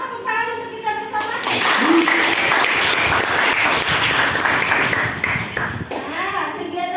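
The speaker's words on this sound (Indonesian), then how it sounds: "Tepuk tangan untuk kita bersama" A class of children claps together in a classroom, a dense, sustained burst of applause lasting several seconds, with a few young voices calling out at the start and end.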